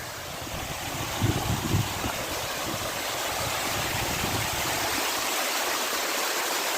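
Water stream rushing down a barranco ravine in Tenerife near Los Gigantes, a steady broad wash of flowing water, loud and continuous throughout with no voices.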